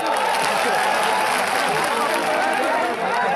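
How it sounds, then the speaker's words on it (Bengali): A large outdoor political rally crowd in Panchagarh applauds for Ishraq, with dense continuous clapping and crowd noise filling the whole stretch at a loud, steady level. "ইশরাকের জন্য একটা হাততালি চাই"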